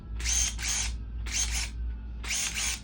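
A Craftsman electric branch pruner whirs in three short bursts, each a quick double-pulsed high buzz, separated by brief pauses over a low background hum, close to the microphone.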